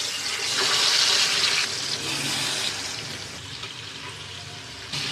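Carp pieces rubbed with chili, salt and turmeric hit hot oil in a pan, giving a loud hissing sizzle that peaks early, then settles into a steady, softer frying crackle.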